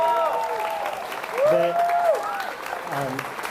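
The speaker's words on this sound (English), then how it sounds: "Huge round of applause" A crowd at a youth bouldering championship final applauds the live stream crew, a steady wash of clapping with cheers and whoops rising above it.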